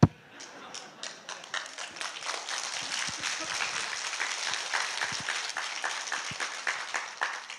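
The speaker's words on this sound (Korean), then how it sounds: "근데 박수 치시잖아요" Audience clapping at a free investment lecture, a fairly faint, scattered patter of hands that swells into steady applause and keeps going throughout.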